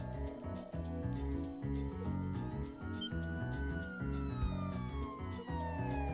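A police car siren wails in Tokyo Xanadu EX+, its rising and falling tone sounding loud and close over steady game music, with no talking.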